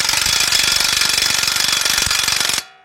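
Harbor Freight Earthquake impact wrench hammering loudly on a transmission center bolt with a 1/2 inch drive deep socket during a Chrysler Sebring/Dodge transmission job, one continuous rapid rattling burst that stops abruptly.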